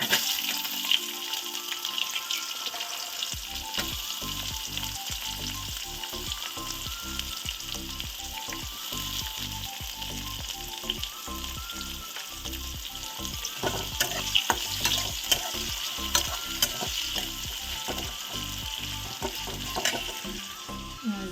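Onion goes into hot oil already tempered with cumin and bay leaf, and a steady loud sizzle builds with a dense crackle and repeated stirring scrapes throughout, with no talk.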